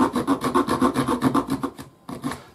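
A small hand saw from a multifunction card knife cuts through wood in quick, steady back-and-forth strokes, close and loud, with a short pause before a final stroke.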